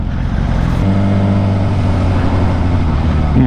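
A car revs and accelerates in city traffic in Sheffield, heard from a commuter motorcycle, with a loud steady engine drone and a rising pitch through most of the stretch, under wind and road rumble.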